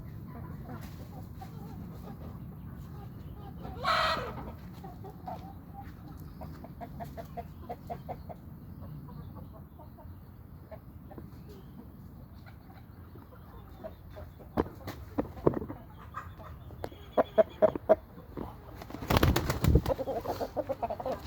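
Chickens at a Thai poultry yard give scattered clucks and short calls, with some wing flapping and a louder burst near the end, over a quiet background.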